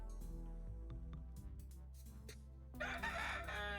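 Chickens from the video game Necesse cluck and crow over steady in-game background music, the bird calls mid-level and layered into the mix, with no talking.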